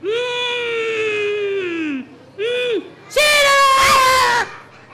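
Group of children crying out in loud, high-pitched shouts at a sanctuary pond on spotting an animal, in three bursts: a long one, a brief one, then a final louder burst.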